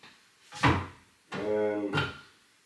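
A kitchen drawer in a newly fitted room slides and thumps, giving a quick knock followed by a longer scraping, slightly squeaky glide and a closing bump, close and moderately quiet.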